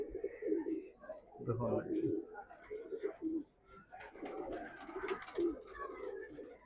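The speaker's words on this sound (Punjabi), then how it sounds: "ਪੰਛੀ ਨੇ ਕਬੂਤਰ ਨੇ ਕਬੂਤਰ ਰੱਖੇ ਹੋਏ ਆ ਜੀ" Pigeons kept at a gurdwara in Bidar coo in soft, repeated throaty calls, mixed with faint chirps and a background voice, fairly close and moderately quiet.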